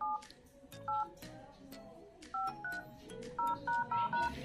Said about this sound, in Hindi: ध्यान से इस कोड को डायल कीजिएगा